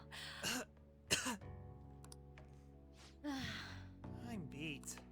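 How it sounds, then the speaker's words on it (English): A character in the game Persona 5 Royal coughs and clears the throat in a few short, rough bursts, with faint breathy sounds between them. "I can't stop coughing."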